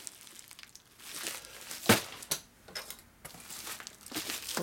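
Cardboard package holding a book being cut open, with close crinkling and tearing scrapes and one sharp rip in the middle, fairly quiet and with no talking.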